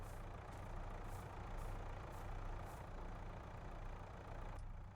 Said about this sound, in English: So we'll get the tractor fired up here